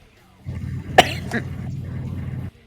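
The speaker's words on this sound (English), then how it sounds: "Sorry for the coughing." A single sharp cough, then a softer second one, over a steady low hum of background noise.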